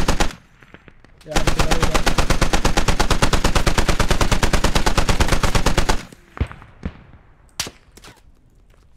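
Gunfire from the video game Squad: a long, loud, unbroken automatic burst of rapid shots lasting several seconds, then scattered single cracks and distant pops while someone briefly speaks.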